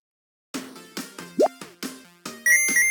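Gold coin pickup sound effects from a Unity video game, a series of about seven short bright plinks at a quick irregular pace, close and clean, the last one ringing longer.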